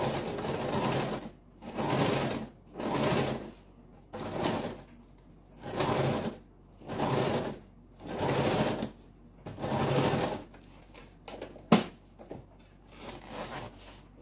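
Sewing machine stitching a folding fabric pencil case, running in about eight steady bursts of roughly a second each with short pauses between, close and clear, then a sharp click and lighter handling noises at the end.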